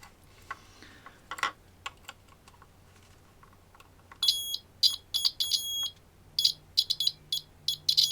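A continuity tester kit probed against a PCB gives short, sharp electronic beeps in an irregular series of quick chirps after a few clicks and taps, close and moderately loud with a faint hum beneath.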